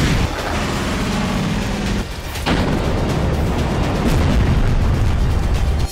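Explosions from a missile attack on Sevastopol, reportedly by Storm Shadow cruise missiles, heard as a continuous loud rumbling roar with a brief dip midway, dense low boom and debris noise throughout, no voices.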